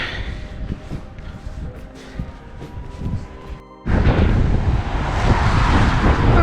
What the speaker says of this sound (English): It's a bit breezy again.